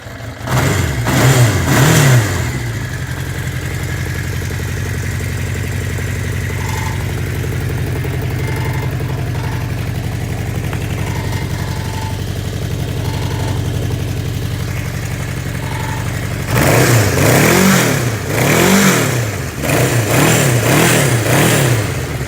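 A 1981 Honda CB 650 motorcycle engine, an older bike that needs choking, fires up and revs loudly at first, settles into a steady close idle, then revs repeatedly again near the end.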